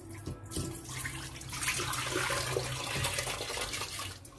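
Soaking water being poured off washed wheat grains, a continuous close splashing pour lasting several seconds with no talking.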